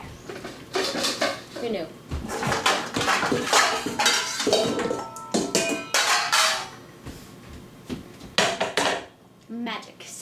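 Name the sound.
getting out and handling a mixing bowl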